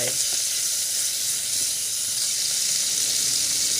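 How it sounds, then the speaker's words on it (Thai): Pork stir-frying in a pan with pounded garlic, shallots and pepper, giving a loud, steady sizzle with hissing steam throughout and faint stirring. "ผัดแค่พอสุกนะครับ"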